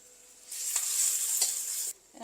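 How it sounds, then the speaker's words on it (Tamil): Chopped onion with garlic-ginger paste hits hot oil and is stirred, a bright sizzling burst that swells for over a second with a few scraping strokes, then drops off abruptly; no voices. "ஆயில் சேர்க்குறேன் சின்னதாக ஒரு வெங்காயம் வெட்டியிருக்கிறோம் அது கூட இஞ்சி பேஸ்ட் பூண்டு இஞ்சி பேஸ்ட்டையும் சேர்க்குறோம் சேர்த்து நல்லா மிக்ஸ் பண்ணுறோம்"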